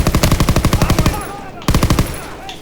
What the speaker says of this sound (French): Oh merde, je tire sur mes alliés.